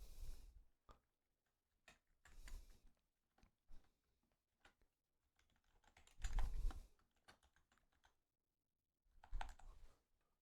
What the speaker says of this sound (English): So I just type in my email account.